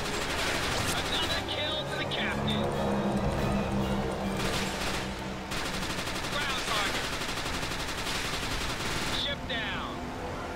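Aircraft machine guns in the video game Blazing Angels 2 rattle in long, rapid bursts, loud and close, with brief pauses, over a constant roar of engines.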